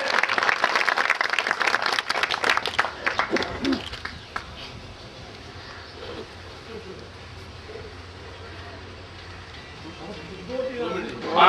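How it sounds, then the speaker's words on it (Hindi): An audience claps to welcome guests at a statue unveiling ceremony: a loud burst of applause for about four seconds, then thinning out as a voice carries on over the fading crowd. "सभी लोग तालियों से स्वागत करेंगे।"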